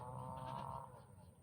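A goat on a farm gives one close, drawn-out bleat that fades into quiet farmyard background, brief and fairly faint.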